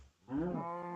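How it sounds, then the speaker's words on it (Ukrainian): A cow moos once in a video game farming and survival world, a single drawn-out bovine call rising out of quiet and holding steady to the end, close and clear with no talking over it. "Тестимо на корівках."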